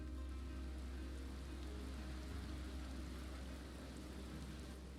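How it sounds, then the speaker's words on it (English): Heavy rain pours steadily and evenly, a dense continuous hiss and patter at constant loudness through the whole stretch, with no voices over it, serving as the backdrop in a tabletop Dungeons & Dragons game. "Heavily raining."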